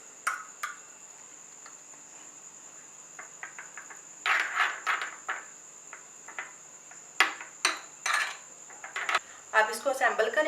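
A spoon mixes green coriander into a sauce in a bowl, giving sparse clinks and scraping taps that come in irregular clusters and grow busier toward the end, close and fairly quiet over a steady high-pitched insect-like hum.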